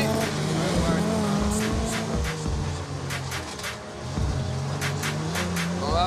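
A Land Rover Defender accelerating off-road, its engine growling steadily and rising in pitch over several seconds, with people talking throughout.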